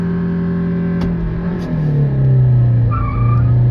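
A Tata Nexon and a Suzuki Brezza, one with a three-cylinder engine, accelerate hard side by side in a drag race. The loud, close engine drone climbs steadily in pitch, with a brief dip and then a stronger rising howl.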